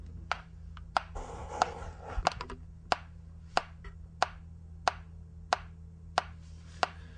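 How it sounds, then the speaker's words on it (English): A metronome set to 92 beats per minute gives sharp, dry clicks at a steady pulse, about eleven over several seconds. They are fairly close and clear over a low, quiet hum, with a few faint extra taps near the start. "so I have the metronome set at 92 beats per minute."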